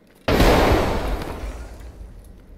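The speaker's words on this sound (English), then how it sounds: "Still tossing grenades." Grenade blast in the video game Escape From Tarkov: one loud, sudden broadband explosion that booms out and decays slowly over two seconds of rumbling tail.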